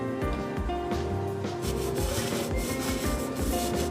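Steady rubbing scrapes at a throttle body idle screw during cleaning, a close, rhythmic scrubbing repeated about twice a second over a faint mechanical hum, with no speech.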